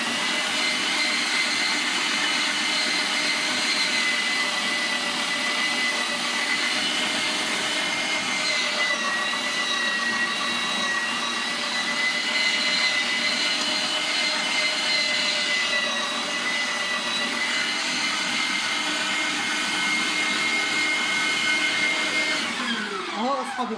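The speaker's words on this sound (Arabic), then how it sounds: "عشان صوت المفرمه" A meat grinder mincing red peppers for a sweet red pepper paste runs as a loud, steady motorized whir with constant grinding, close by and alone for the full stretch.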